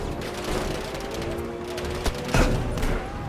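Gunfire in Battlefield V, a steady din of rapid automatic shots and explosions with a couple of louder close bursts near the end.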